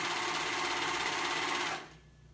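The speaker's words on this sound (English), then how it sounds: "So now I'm gonna start sewing it on." Sewing machine stitching a collar through three fabric layers onto an A-line dress, running in a steady, continuous close-up whir for nearly two seconds before stopping abruptly, leaving quiet room tone.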